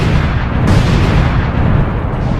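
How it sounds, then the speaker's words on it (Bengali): In a video game, several sticky bombs go off together as a loud, sustained wall of booming blasts and rumble, heard close with no voices. "এখন চুপচাপ স্টিকি বম লাগিয়ে দেই, আর স্টিকি বমগুলো এখন ব্লাস্ট করতে হবে"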